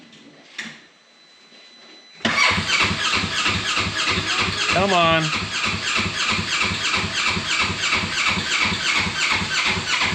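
A Polaris Ranger 900 XP utility vehicle engine cranks sluggishly on a weak battery, giving a steady, rhythmic chugging that runs about eight seconds without catching. A voice briefly urges it on just before the cranking starts.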